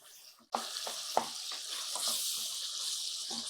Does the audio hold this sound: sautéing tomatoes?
yes